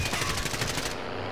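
Gunfire from an MP5 loaded with 10mm shotgun rounds in Modern Warfare: a rapid string of close, loud shots in a steady rhythm that stops abruptly partway through.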